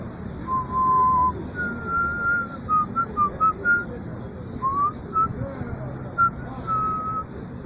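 A person whistles a wandering tune of short and held notes, fairly close, over a low background rumble.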